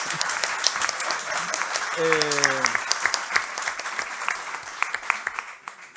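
A crowd applauds steadily, a dense patter of clapping with a brief tonal sound partway through.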